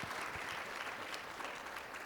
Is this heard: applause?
yes